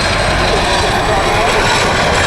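An aircraft flies at the Bournemouth Airshow in 2015, heard as a loud, continuous broadband engine roar. The roar stays steady and close throughout.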